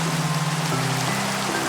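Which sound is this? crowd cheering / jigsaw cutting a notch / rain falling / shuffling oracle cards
rain falling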